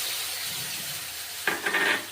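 Turmeric, chili, coriander and cumin powder mix hitting hot oil for a bamboo shoot dish, a sudden loud sizzle bursting in after a quiet stretch of low background hiss.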